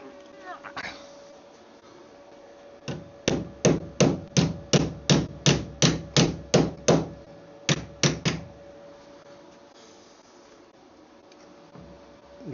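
Hammering on the car body of a rusty Mk2 Ford Fiesta during repair, about fourteen sharp metallic blows in a steady rhythm, a short pause, then three more, close and loud over a quiet workshop hum.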